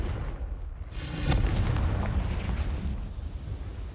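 Confringo, an explosive fire spell cast in the video game Hogwarts Legacy, lands as a loud rumbling blast that swells and rolls for a couple of seconds before fading into a lingering low roar, heard alone.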